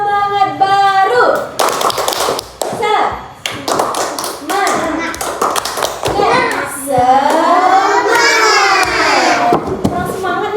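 Children perform the 'tepuk semangat' clapping chant in a classroom microteaching lesson, with a leader's voice and kids chanting over rhythmic hand claps and taps, lively and close.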